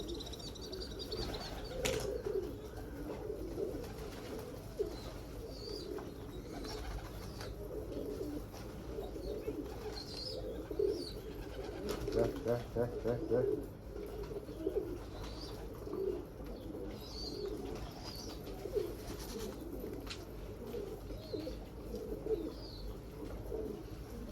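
Pigeons coo repeatedly over a steady low rumble, with occasional wing flaps and faint chirps scattered throughout.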